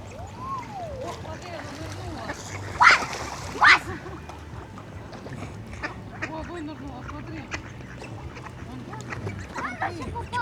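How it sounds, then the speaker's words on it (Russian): Ducks quack in a couple of loud bursts near a river, with softer calls scattered over steady outdoor background noise and faint voices. "Еще немного уточек, уже не сонных."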